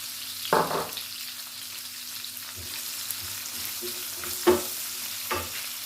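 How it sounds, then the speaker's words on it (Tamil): Onions frying in a pan for Tamil palak paneer, with a steady low sizzle broken by a few louder scraping stirs, close and without talk. "நல்லா வதங்கட்டும், கிளறி விட்டுக்கொள்வோம்"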